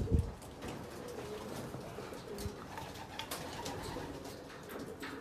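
Racing pigeons kept in a crowded coop coo softly and continuously, low murmuring calls overlapping at moderate distance, with a bump of wing or cage noise at the start and no talk.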